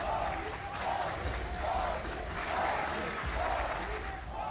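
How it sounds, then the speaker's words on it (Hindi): A large crowd in the Namibian parliament applauds steadily while rhythmic chanting of "Modi" swells and falls in regular waves, heard from a distance. "पूरी संसद खड़ी हो गई, तालियां बजती रही, मोदी के नाम के नारे लगते रहे"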